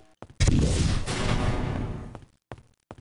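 Loud explosions from the video game Might and Magic World of Enroth boom across about two seconds in one sustained, heavy burst, with a few short thuds trailing after.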